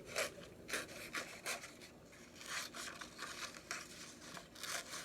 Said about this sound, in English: And then I'm going to fuzzy cut them.